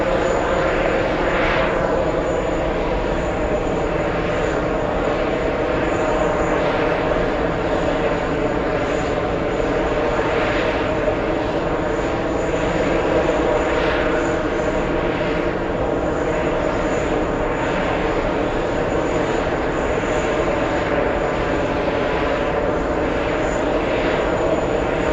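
Jet airliner engines roar steadily and loudly at JFK airport as a Boeing 777 comes in to land, a continuous broadband rumble with no breaks for the whole length.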